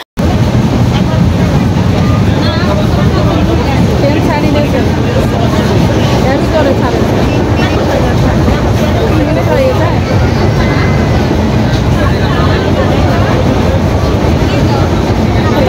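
Inside a moving passenger train, a loud steady rumble and rushing wind-like roar fill the whole stretch, with no distinct clatter standing out.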